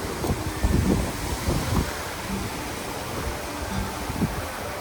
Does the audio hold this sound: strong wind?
yes